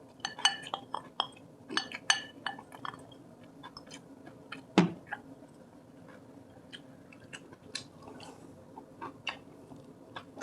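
Someone eats braised tofu with rice, kimchi and roasted seaweed at a home table, with close, soft chewing and mouth sounds. Dishes and utensils give bright clinks throughout, and one louder clatter comes midway.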